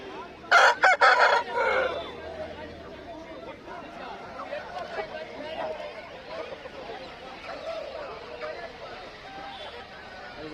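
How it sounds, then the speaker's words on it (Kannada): A rooster crows loudly once nearby near the start, followed by quieter clucking and someone talking in the background at a chicken market. "ಅಲ್ಲೇ ಒಂದು ಹುಂಜ ಇದೆ"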